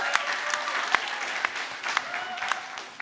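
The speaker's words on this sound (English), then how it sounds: "Give a round of applause." A debate audience at a politics event claps for a team, a full round of applause with sharp individual claps standing out, sustained for a few seconds before tapering slightly.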